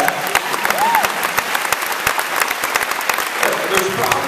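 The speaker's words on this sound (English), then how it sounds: "Big clap for that." An audience applauds at a talk by a teacher: dense, steady clapping from many hands fills the whole stretch at an even level.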